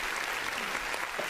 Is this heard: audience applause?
yes